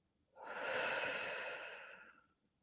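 A single deep, slow exhale during yoga breathing, a soft airy whoosh lasting about two seconds, close and quiet with no talking.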